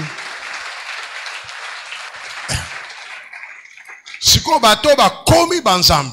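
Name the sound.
congregation applauding and acclaiming in church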